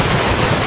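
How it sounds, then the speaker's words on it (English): Heavy rain in Skyrim, a dense steady hiss of downpour filling the short moment without a break, loud and close with no other sounds. "The rain is quite heavy."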